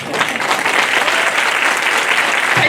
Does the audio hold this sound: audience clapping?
yes